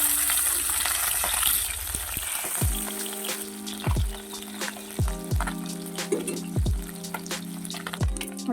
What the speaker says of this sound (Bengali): মাছগুলো এক পিঠটা ভাজা হয়ে গেছে